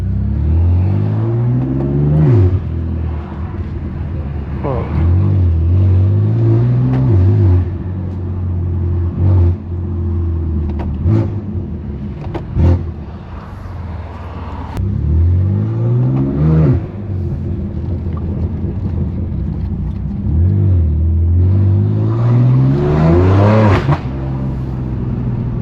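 A BMW F80 M3 Competition with a straight-pipe exhaust revs loudly in repeated rising pulls through city streets, the raw engine note echoing off nearby walls, with no talking over it.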